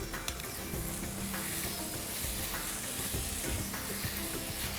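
Paneer bhaji with ketchup and a spoon of water sizzling in a pan while being stirred, a soft continuous frying hiss with faint scraping taps, fairly quiet and steady.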